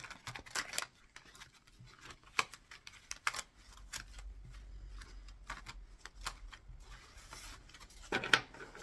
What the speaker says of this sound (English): These cards do not want to shuffle today.